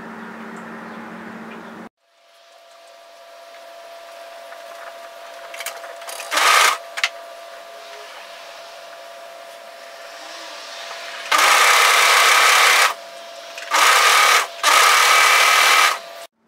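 An overlocker stitches through the folded layers of a knitted sweater in several loud machine bursts of a second or two each, separated by quieter stretches with no talking.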